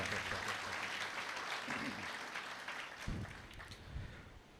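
Applause welcomes the congregation at a Sunday Mass for the 16th week in Ordinary Time, moderate and fairly distant clapping that slowly fades, with a few louder thumps and some faint voices under it.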